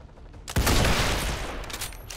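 Gunfire aimed at a mech in XCOM 2 bursts in suddenly after a quiet moment, a loud dense volley that rolls on and slowly fades.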